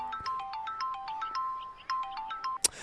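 A phone ringtone plays during an unanswered call, a quick repeating electronic melody of bright beeping notes, cut off by a short click near the end.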